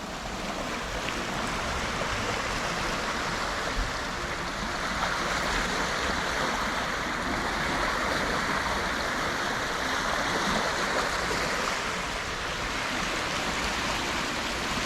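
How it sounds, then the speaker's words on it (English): The Clinton River runs high after rain, a broad continuous wash of rushing water flowing strongly without a break, with no voices. "The first good view of the Clinton River. It's flowing pretty good"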